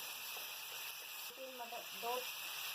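Peas and minced meat fry in a pan, giving a steady faint sizzle and hiss throughout, with a voice speaking softly over it.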